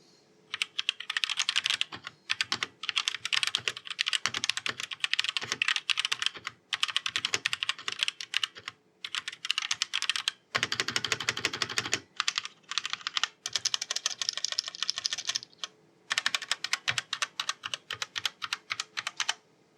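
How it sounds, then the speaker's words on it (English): Rapid clacking of Epomaker S68 mechanical keyboard keys, close and crisp, typed in bursts with short pauses between runs. "So this is what the keyboard sounds like."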